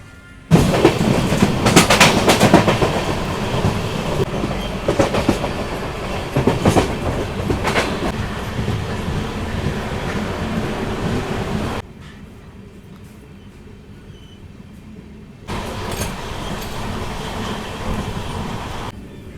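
An Amrit Bharat Express sleeper train runs on tracks near the India–Nepal border, a loud, close roar of wheels and rattling carriages with clicks and squeals, then a brief quieter stretch before the rumble swells again.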